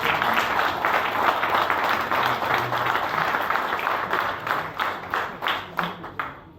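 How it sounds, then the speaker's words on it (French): A crowd at a political gathering applauds itself, with broad, sustained clapping that gradually thins into a few separate, spaced claps before fading out. "nous devons nous autoriser à nous applaudir pour le travail que nous venons de faire"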